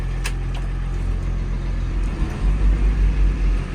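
A boat's engines idle at about quarter throttle while warming up, a low steady rumble with a slight pulsing beat toward the end and a few faint ticks above it.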